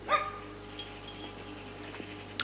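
Three dogs at a holiday home in the Ardennes give a short yip or bark at the start, followed by faint scattered sounds over a low steady hum.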